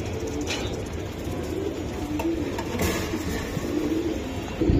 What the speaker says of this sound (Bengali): ভাই এটি অরিজিনাল পাকিস্তানি গলায় লাল কবুতর